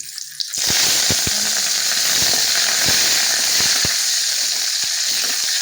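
Curry leaves dropped into hot oil with mustard seeds and chili burst into loud, steady sizzling and hissing, with scattered popping crackles across several seconds and no talk.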